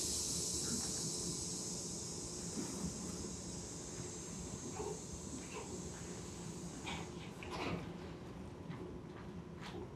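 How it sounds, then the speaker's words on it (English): Inside a passenger train car on the move over bumpy tracks: a low, constant rumble with airy hiss and scattered clicks and rattles from the carriage, in a stage play. "Lights come up inside a passenger train car in transit."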